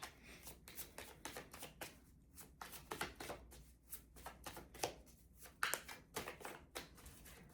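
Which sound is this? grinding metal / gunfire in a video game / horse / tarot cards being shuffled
tarot cards being shuffled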